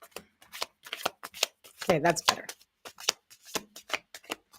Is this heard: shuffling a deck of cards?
yes